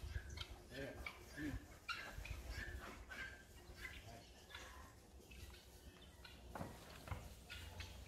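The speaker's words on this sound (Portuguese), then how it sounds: "Galinha de Angola, ó, pra quem não conhece." Helmeted guinea fowl call in repeated, rhythmic raspy bursts on a dairy farm at seven in the morning, close and fairly loud over outdoor background noise.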